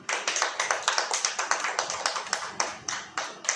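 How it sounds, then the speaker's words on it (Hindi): An audience at a religious sermon claps in a quick, steady burst that carries on for several seconds, close and fairly loud, with no talking over it. "ताली नहीं बजेगी?"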